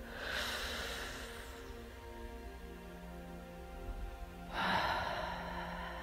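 Two deep, audible breaths, a long inhale near the start and another after a quiet pause, over a soft sustained tonal hum.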